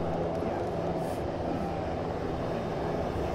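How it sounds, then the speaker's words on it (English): A helicopter engine in a video game drones steadily and fairly loud, a continuous rumbling whine that runs unbroken throughout, with faint speech mixed underneath. "Alright, helicopter's landed."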